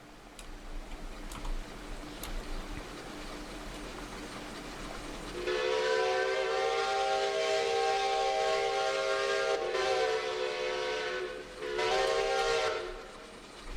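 A steam locomotive in the Centuries of Steam video game blows a long, loud, harmonic whistle in several blasts over a low rumble of the running train, with quieter track noise before it starts.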